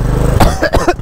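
A man gives a couple of short, harsh coughs close up, heard over the rumble of a running motorcycle engine nearby.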